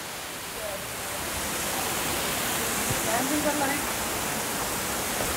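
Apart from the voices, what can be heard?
waterfall seen from a cave behind it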